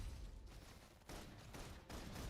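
Dense rapid gunfire in bursts in a Halo video game, loud and continuous, with brief pauses between volleys and heavy low rumble, like automatic weapons.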